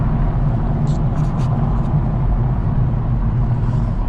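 BMW M135i on its stock factory exhaust, a steady low engine drone holding an even, close-up rumble for several seconds with a few faint high chirps above it.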